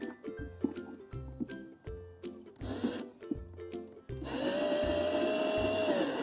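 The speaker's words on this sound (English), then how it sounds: "So much better when you put the drill in forward rather than reverse." Cordless power drill driving a screw into a plastic seed-sowing item, short stuttering bursts of whirring followed by one longer steady run, close and moderately loud.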